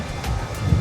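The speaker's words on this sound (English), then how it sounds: "It's very windy." Steady wind buffeting the microphone outdoors near a pool at a beach resort in Aruba, a low rumbling roar with a couple of stronger gusts, no voices.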